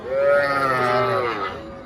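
A single long, loud cow moo, drawn out and harmonic, close by at a cattle market with little else around it.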